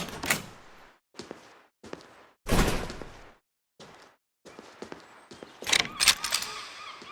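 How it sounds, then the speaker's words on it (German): Door sounds in the horror video game Broken Pieces, set in a church: a series of separate clunks and a heavier thud, followed by busier rattling at the end, all close and fairly loud. "Hier ist eine Tür."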